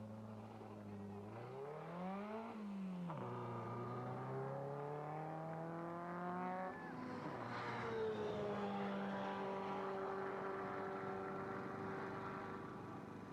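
A Rover Metro race car pulls away from a pit stop, its engine rising and falling in steady revving sweeps as it accelerates off, loud and close with the note climbing then settling into a sustained drone.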